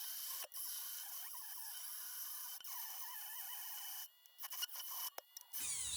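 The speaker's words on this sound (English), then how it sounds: "Maybe I'm being too hard on the poor Dremel." A Dremel rotary tool slowly cutting through metal on a wagon project, giving a steady, fairly quiet high-pitched grinding whine that runs almost continuously, briefly dropping out near the end with a few short interruptions.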